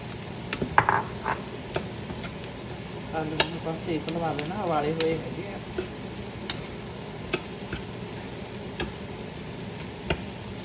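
Potatoes frying with cumin seeds in a pan, a steady sizzle broken by sharp scraping clicks of a spoon stirring, with one brief burst of louder bubbling midway; no talking.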